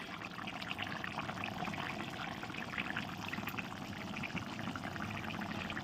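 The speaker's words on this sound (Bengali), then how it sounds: "কত সুন্দর ফুটছে" Steady liquid bubbling and gurgling close by, a continuous simmering texture of a cauliflower, potato, paneer and tomato curry boiling in a pot, with no talking.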